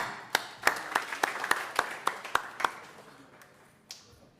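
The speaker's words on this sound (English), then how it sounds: "please join me in a round of applause to welcome our newest law enforcement officers" A small audience at a law enforcement officers' welcome ceremony claps in sharp, distinct claps at a steady pace, slowing and thinning out toward the end, with a few stray claps trailing off.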